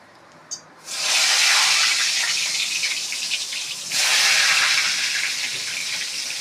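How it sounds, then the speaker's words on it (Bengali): Eggplant slices dropped into hot oil in a wok set off a loud, bright sizzle that surges after a small clink, dips briefly, then flares again as another slice goes in. "এবার এক এক করে বেগুনগুলো দিয়ে দেব।"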